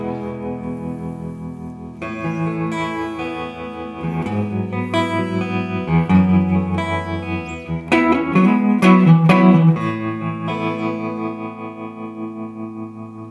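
An electric guitar played through a Duesenberg Violet Trem tremolo pedal set to a sine wave, with chords and single notes swelling and fading in a smooth, steady pulse. The instrument plays alone and stays close and loud.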